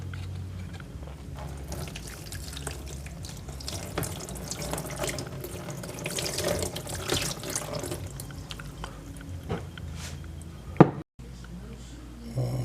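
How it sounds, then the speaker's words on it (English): Water runs from a tap over an amplifier circuit board while it is rinsed with distilled water, a steady splashing flow with occasional drips and clinks, and a brief pause near the end before it resumes. "now I'm going to rinse it"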